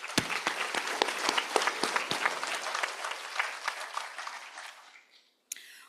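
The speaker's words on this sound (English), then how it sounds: "Graduates, please give them a big round of applause." Loud, dense applause from a university convocation audience honoring graduates' families, with sharp individual claps standing out before the clapping thins and fades to near silence, followed by a brief bump of noise.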